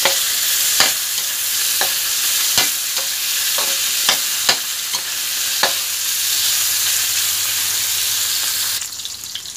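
Marinated pork, seasoned with oyster sauce and soy sauce, stir-frying in a pan for a Thai stir-fry with chaya greens: a steady loud sizzle with sharp utensil scrapes and clacks at irregular intervals, no talking.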